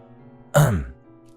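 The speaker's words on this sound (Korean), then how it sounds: "제가 크게 헛기침을 하며 다가갔는데요" A single loud throat clearing, close and abrupt, lasting under half a second against a quiet background.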